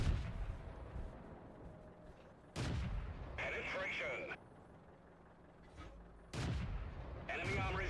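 Tank cannon fire in World of Tanks from a tier 6 tank destroyer, several heavy booming shots spaced a few seconds apart over a low engine rumble.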